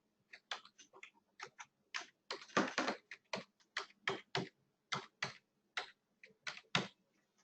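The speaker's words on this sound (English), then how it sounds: "I'll type it in the chat." Keys on a computer keyboard are typed in quick irregular bursts of crisp clicks, close and fairly quiet, with short pauses between runs and no talking.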